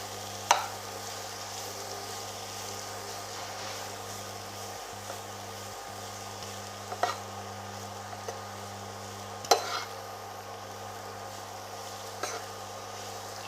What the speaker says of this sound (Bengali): এই গাজরটা দিয়ে আমাকে নেড়ে যেতে হবে।